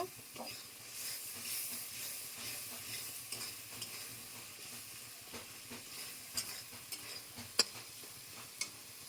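Spice paste (masala) frying in oil, being cooked down for a cauliflower and paneer curry: a quiet, steady sizzle under occasional stirring scrapes and sharp little clicks from the pan.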